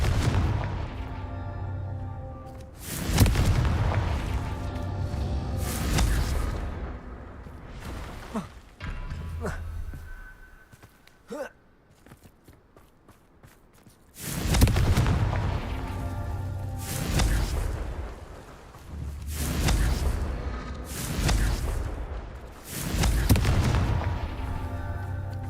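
Confringo blasting curse in Hogwarts Legacy, a series of booming explosive blasts, several in quick succession, then a quieter gap with small effects before another run of heavy bursts. A voice talks in between.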